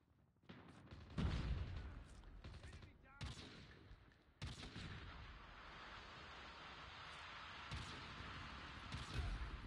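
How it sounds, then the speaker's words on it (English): Sniper rifle shots in Call of Duty Mobile, with several loud sharp cracks and booms spread across the clip over a dense, continuous bed of battlefield gunfire and rumble. "Sniped him through the smoke."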